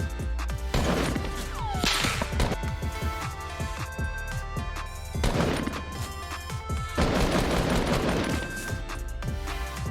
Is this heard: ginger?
no